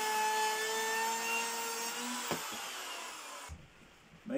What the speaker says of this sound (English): I used the router to take the overhang off the edges of the lids.